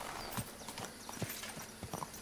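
Horse hooves clip-clop in Kingdom Come: Deliverance II, a run of sharp, fairly close hoofbeats in uneven rhythm over a soft background, with no voices.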